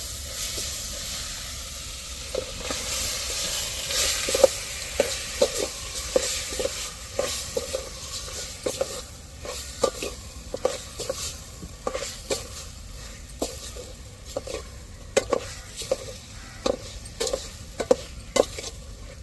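Chicken pieces, bone-in and boneless, fry in a ginger-garlic tempering for a curry while a spoon stirs them, giving a steady sizzle broken by frequent scraping clicks that grow busier toward the end, with no talking.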